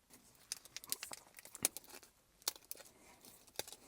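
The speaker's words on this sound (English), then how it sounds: "We'll go ahead and unwrap this." Faint, close crinkling and tearing of packaging being unwrapped from a 4th gen Toyota Tacoma mod, with irregular crackles and sharper rips scattered across a few seconds.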